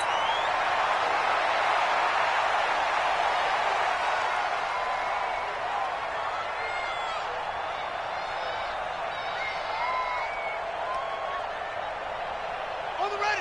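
Stadium crowd noise at Arrowhead in a football video game, a steady roar from a large crowd with a few scattered shouts rising above it.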